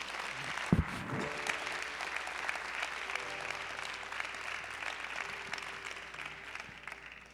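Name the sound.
congregation applause in church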